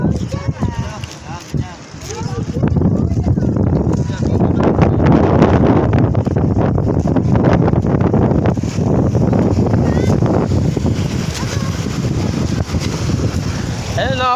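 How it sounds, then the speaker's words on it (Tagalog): Strong sea waves churn with heavy wind buffeting the microphone, a loud continuous roar along a shoreline with no pauses. "Malakas ang alon dito kaya nagtataasan eh dito sa kabila."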